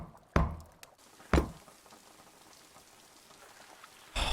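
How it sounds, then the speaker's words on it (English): Rain falls steadily in an anime film scene, a soft continuous hiss with a few sharp thumps or knocks standing out near the start and again at the end. "God, I love the rain though."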